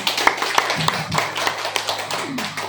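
Scattered, uneven hand claps from a small audience at a school teachers' session, a handful of sharp near claps spaced apart over a quiet room murmur.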